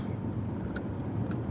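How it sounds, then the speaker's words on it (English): Steady, low road traffic rumble from passing cars on a busy street, continuous and fairly distant, with no speech. "every day is traffic over here, man."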